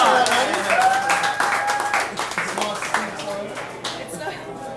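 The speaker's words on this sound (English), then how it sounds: "That's a big round of applause." Applause for a rock and roll bar band rises and tapers off, with a voice talking over the clapping.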